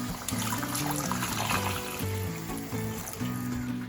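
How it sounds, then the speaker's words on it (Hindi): Hot water pours steadily into a pot of aloo gosht, a continuous watery hiss with steady background music underneath. "मैं इसमें शामिल करूँगी गर्म पानी"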